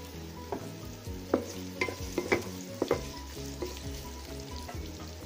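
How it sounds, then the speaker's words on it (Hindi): Tamarind frying in freshly added oil for a gongura (red sorrel) pickle, a steady close sizzle with occasional sharp pops and a few spoon scrapes, no talking. "अब हम इसमें थोड़ा ऑयल और डालेंगे,"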